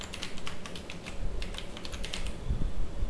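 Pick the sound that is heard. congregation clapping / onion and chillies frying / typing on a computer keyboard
typing on a computer keyboard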